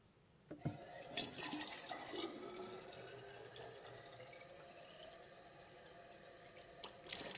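Tap water runs from a kitchen faucet with no aerator fitted, filling a container: a steady, close hiss and splash that begins abruptly after a brief click and holds evenly throughout, with a faint clunk near the end.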